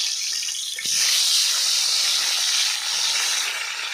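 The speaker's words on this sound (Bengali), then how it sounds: "দেখতে পাচ্ছি কত সুন্দর ভাজা হয়ে গেছে" Tilapia fish fries in hot oil with a steady, loud hiss that swells after the first second and holds to the end.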